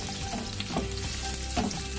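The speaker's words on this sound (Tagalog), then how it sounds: "Maglagay ulit ng mantika at ating igisa ang ating mga ingredientes." Onion and garlic sauté in cooking oil for menudo, a close sizzle with stirring scrapes and utensil knocks recurring every second or so, plus a low rumble underneath and no talking.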